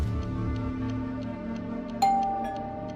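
A doorbell sounds once as a single bright chime that rings out and fades slowly over low background music.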